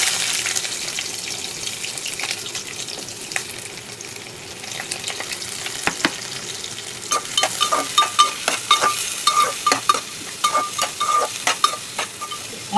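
Onions and green chillies fry in hot oil in a pan for an egg curry, a steady close sizzle broken by scraping stirs and clinks that grow busier toward the end.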